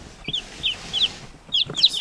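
A small chick cheeps in short, high, repeated peeps, several bright calls spaced across a couple of seconds, close and fairly loud with no talking.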